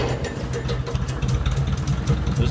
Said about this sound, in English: Push in on the clutch and pull this starter rod.